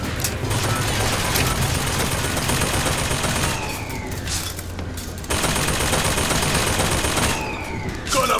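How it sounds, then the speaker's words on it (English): Sustained gunfire in the video game Bioshock Infinite, loud and continuous with machine-gun-like rattling, a brief dip in the middle before the shooting resumes just as heavily. "Is someone shooting from over there?"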